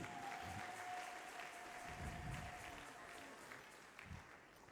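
Church congregation at a Sunday service claps together for Jesus Christ, a sustained rattle of many hands heard at modest level, with a faint tone and brief low thumps underneath.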